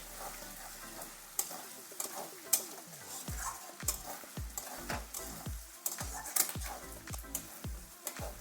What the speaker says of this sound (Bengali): দিয়ে দেবো 4টে টমেটো, দিয়ে ভালো করে এর সঙ্গে কষাতে থাকবো।